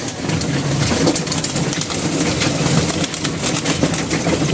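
Many pigeons coo together in a dense, continuous murmur, with low throaty calls overlapping beneath a busy, noisy background.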